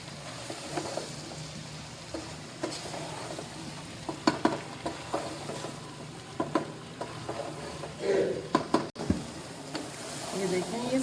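Rice being stirred in a frying pan with salt and black pepper, a soft sizzle under repeated scraping and knocking strokes of the spoon, some louder clinks, with someone talking faintly at times.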